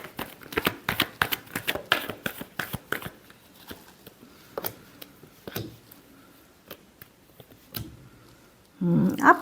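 Tarot cards get a last shuffle up close, with a quick run of crisp riffling snaps followed by scattered softer flicks and a brief rustle at the end.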